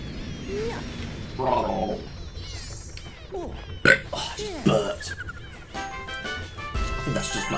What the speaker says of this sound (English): Just burping too much.